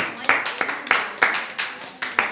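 Students in a classroom clap in unison, about nine sharp, evenly spaced claps in a quick rhythm, each crisp and distinct against a quiet room.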